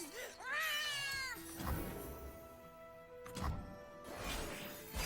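Cartoonish cat meows from the Legends of Runeterra card game, a rising, wavering mew followed by a sharp crash-like hit, then a softer second meow and another thump, all loud and close.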